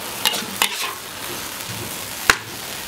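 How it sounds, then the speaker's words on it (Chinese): Shredded potatoes with chopped chili are stir-fried in a wok: a soft continuous sizzle broken by a few sharp scraping strokes of the spatula against the metal, close up and with no voices. "再炒一下下，还有点点油"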